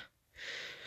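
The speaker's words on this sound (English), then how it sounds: "I have no idea why I'm breathing like this." A single heavy, rasping breath in a Minecraft Five Nights at Freddy's roleplay, a short gasp-like inhale that swells after a brief pause, close to the microphone.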